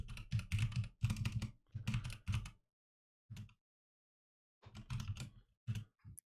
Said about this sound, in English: I'm typing it down.